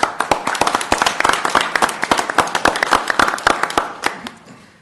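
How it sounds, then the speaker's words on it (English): Audience at a 2017 city council candidate forum in Commerce City, Colorado, clapping in a small room: scattered sharp claps from a modest crowd, close and fairly loud, tapering off after several seconds. "So a round of applause,"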